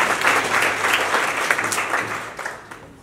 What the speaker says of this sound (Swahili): Kwa makofi.